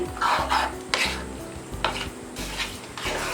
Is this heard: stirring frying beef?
yes